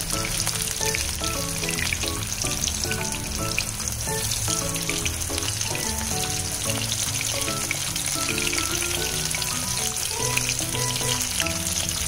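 Small prawn pakoras frying in hot oil over medium heat, four or five at a time, giving a continuous dense sizzle and bubbling crackle throughout, steady and close.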